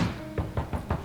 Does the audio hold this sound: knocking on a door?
yes